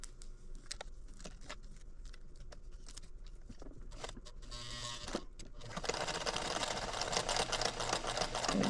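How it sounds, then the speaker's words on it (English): A sewing machine stitches across a fabric wristlet wristband at the hook, running backward and forward; it starts faint and intermittent, then hums steadily and louder for the last few seconds. "we're going to sew across here so that our seam is hidden inside"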